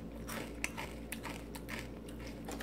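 Close, quiet chewing of crunchy oat cereal with cinnamon, soft irregular crunches and bites over a low background hum, no talking.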